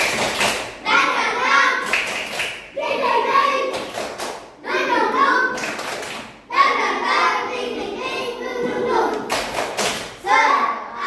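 A class of young schoolchildren performs a rhythmic spirit clap, with loud bursts of unison clapping and patterned taps mixed with shouted chanting voices.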